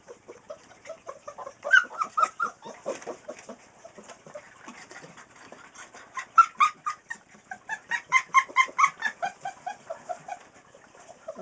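Young Newfoundland puppies about six weeks old yelp and squeal in repeated bursts of high-pitched cries, several rapid runs of yelps rising and falling close by, with no talk.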